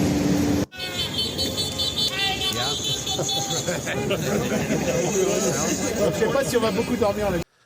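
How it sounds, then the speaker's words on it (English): Car horns toot and honk repeatedly from vehicles on the far side of a highway in support of farmers blockading roads into Paris, mixed with steady traffic noise while people talk nearby throughout. "Looks like they're getting support from the honkers from the cars on the other side of the highway."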